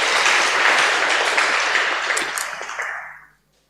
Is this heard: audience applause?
yes